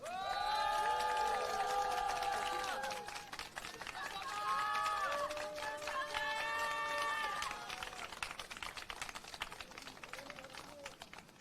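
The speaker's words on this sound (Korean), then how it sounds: "큰 박수 부탁드립니다." Applause and cheering at a political party signature-delivery ceremony, clapping running throughout under loud shouting and cheering voices from a crowd, with a few surges and fading near the end.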